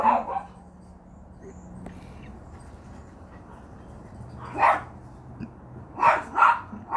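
Dogs barking in a backyard as squirrels run along the fence: a few loud barks at the start, then sharp separate barks later, with quiet stretches between them.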